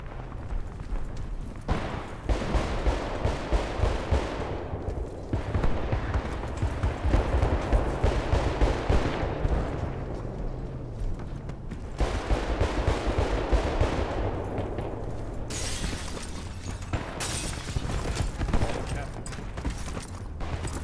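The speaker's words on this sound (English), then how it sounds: "Someone was shooting at me." Gunshots in a video game, dense crackling volleys and rumbling blasts that run almost continuously, rising and falling in waves with brief thinner stretches.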